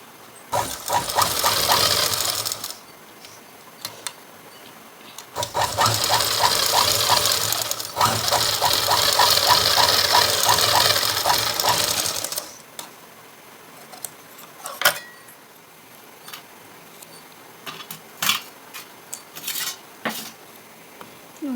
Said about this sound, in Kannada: ಹಂಗಾಗಿ ಸ್ಟಿಚ್ ಹಾಕೊಂಡ್ಬಿಡೋಣ